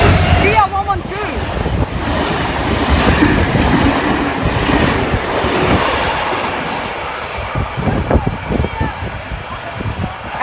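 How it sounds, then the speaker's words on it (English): Endeavour passenger train arriving at Menangle station near Sydney, a loud continuous rumble with clattering wheels and rail noise close by, steady throughout. "we have an Endeavour arriving for a Campbelltown service"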